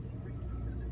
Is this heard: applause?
no